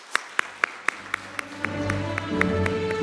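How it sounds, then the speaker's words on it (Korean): A church congregation welcoming graduates with a sparse, slow clapping that swells into fuller, steadier applause, heard from within the room. "큰 박수로 우리 환영하도록 하겠습니다"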